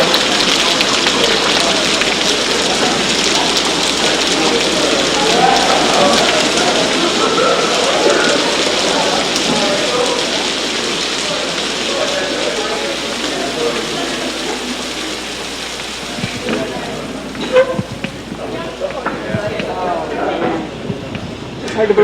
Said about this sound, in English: It's now raining very hard, and it's just thick black ash falling out of the sky.